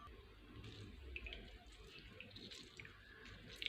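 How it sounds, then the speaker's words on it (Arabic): Half a large lemon squeezed by hand over a glass of water, juice dripping faintly into the liquid with quiet soft splashes against low background noise. "بعصر نص الليمونة بتاعتي وبشيل البذر لو وقع بذر في المشروب بتاعي"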